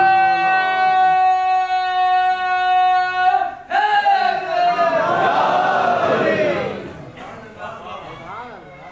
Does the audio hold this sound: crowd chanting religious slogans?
yes